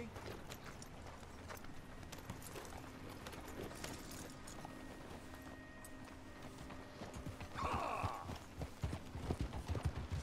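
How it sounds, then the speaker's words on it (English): Horse hooves clip-clopping steadily in Red Dead Redemption 2, a continuous quiet riding rhythm that grows louder and busier toward the end, with a faint neigh partway through and low game ambience beneath. "Are our horses coming? I think they are."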